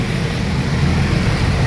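A Nilgiri Mountain toy train engine runs on the Coonoor to Ooty line, producing a loud, steady, close-up rumble with broadband mechanical roar that continues without a break.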